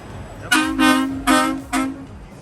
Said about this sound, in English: a couple of them are honking